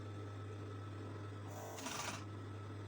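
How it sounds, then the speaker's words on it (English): A serger sewing machine with a cutting blade stitches fabric for a puff-sleeve top in a brief, fairly faint whirring burst of under a second over a steady low electrical hum, with no talking. "because I'm using a serger and you know it does have a blade"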